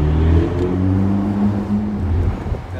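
A Ferrari Portofino engine in its quiet mode rumbles low at idle, a steady deep drone with slight wavering, heard close and fairly loud with no talking.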